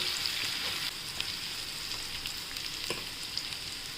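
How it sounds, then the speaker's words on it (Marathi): Onion sautéing in hot oil with curry leaves, mustard seeds and cumin for corn upma: a soft, steady sizzle at moderate distance with a few faint crackles and light stirring ticks, no voices. "कांदा टाकूया. पण छान कांदा त्याचा कच्चेपणा जाईपर्यंत परतून घेऊया."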